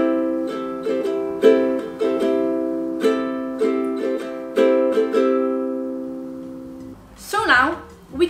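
A ukulele is strummed through a repeating down-down-up-up-down-up pattern of bright chords at an even pace, followed by a brief bit of talking at the end.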